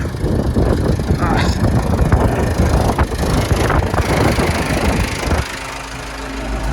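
Loud tractor engine rumbles and clatters nearby in a field, the tractor sinking into the soil and leaving ruts, dropping to a steadier idle near the end, with a voice faintly mixed in.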